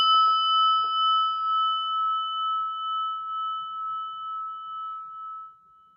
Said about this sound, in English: take a big breath together and listen to the bell